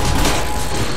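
Dense, continuous gunfire and explosive thumps fill a Call of Duty Zombies round played with explosives and knives, loud and steady with no pauses across the moment.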